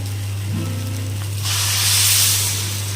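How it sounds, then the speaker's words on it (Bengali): Water hits a hot pan of frying khichu and sets off a loud, broad hiss of sizzling steam that swells after a quieter opening and keeps going to the end, close and steady over a low hum. "এখন আমি এর মধ্যে জল দিয়ে দেব।"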